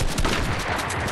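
Rapid gunfire from a Fortnite match crackles loudly in a dense burst of overlapping shots, close and continuous for about a second with no talk.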